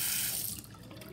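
A bathroom tap runs in a house, a soft hiss of flowing water that eases and thins out partway through, with faint splashing and no talking.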